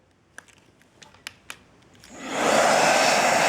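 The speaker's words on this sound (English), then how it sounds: "now I could use it as a vacuum. So I could just vacuum like this" A few small clicks and taps, then a handheld cordless lithium electric air duster used as a vacuum whirs on and holds a loud, steady high-pitched rush close by.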